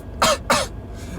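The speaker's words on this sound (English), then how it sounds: "Just cough." Two quick, sharp coughs close to the listener, evenly spaced and fairly loud, followed by quiet.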